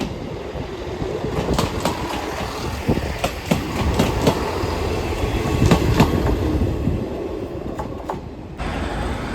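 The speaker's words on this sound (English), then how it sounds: "Also arriving in as a northern service, what I would believe is a terminate service from the Ashington line." A Northern passenger train, a terminating service from the Ashington line, rolls into Newcastle station with a loud, steady rumble, rhythmic wheel clicks over rail joints and faint squeals, heard close and continuous without talk.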